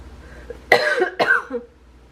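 Two sharp, close coughs in quick succession, followed by a brief throaty trailing sound, otherwise quiet.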